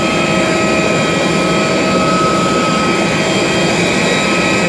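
An airliner's jet engine roars continuously with a steady high whine over a broad rushing noise, loud and close, heard while passengers board.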